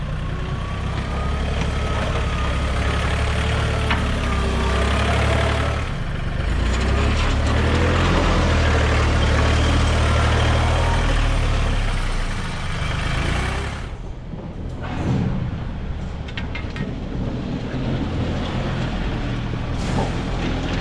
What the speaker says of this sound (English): had to move it with the tractor